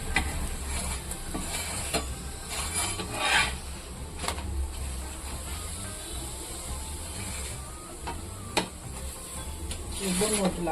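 Oil brushed over a drumstick parotta on a hot pan gives a continuous close sizzle and hiss, with a few brief clicks and scrapes breaking through.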